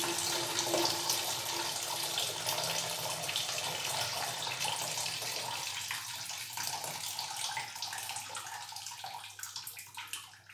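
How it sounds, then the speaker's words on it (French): Water from cooked pasta pours steadily into a bucket, a continuous splashing gush that thins and becomes more uneven toward the end, with no voices. "vider l'eau des pâtes dans le seau qui ira"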